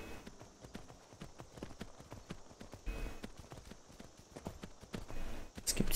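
Horse hooves clip-clop steadily in the Skyrim video game as a rider travels, the regular footfalls fairly close and moderately loud with no talk over them.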